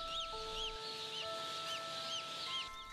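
Chicks cluck and chirp repeatedly over a steady mechanical hum of hatchery machinery, with several sustained machine tones running underneath throughout.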